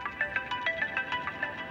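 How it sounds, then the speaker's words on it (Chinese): A mobile phone ringtone signals an incoming call, a rhythmic electronic melody of quick repeating notes pulsing steadily and fairly loud throughout, with no voices over it. "哟，你老婆来电话了。"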